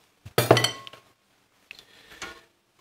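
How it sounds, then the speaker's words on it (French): Pot lid set back down on a cooking pot while melting chocolate, two short clinks of metal on metal, close and fairly quiet with silence between. "j'essuie avant de remettre mon couvercle dessus"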